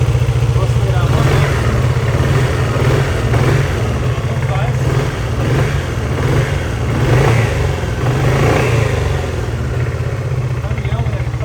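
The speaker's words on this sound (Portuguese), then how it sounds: "vou acelerar a moto." Close and loud, a Dafra Maxsym 400i scooter engine runs after a general service, its steady hum swelling in several revving pulses, while someone talks over it now and then.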